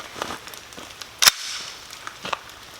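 A CZ Scorpion Micro EVO 3 S2 fires one sharp, loud shot at an outdoor range, a brief crack standing out among faint rustling and a few smaller taps.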